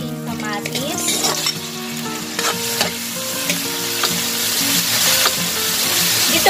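Onion and tomato sauteing in a frying pan for ginisang ampalaya, a bitter gourd dish: a continuous close sizzle with stirring and scraping throughout, growing slightly louder toward the end, with no speech.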